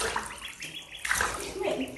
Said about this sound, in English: And then here they are splashing in the bath.